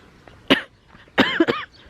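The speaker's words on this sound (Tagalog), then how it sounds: "Sorry, umuubo talaga ako." Two sharp coughs, the second a quick double cough, close by with quiet background between them.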